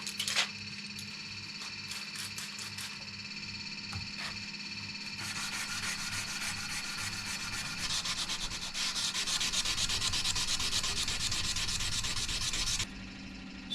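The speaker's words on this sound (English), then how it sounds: "And now time for some hand sanding." Continuous rhythmic scraping of sandpaper rubbed back and forth on a steel knife blade by hand, close and steady, growing slightly louder partway through before easing at the end.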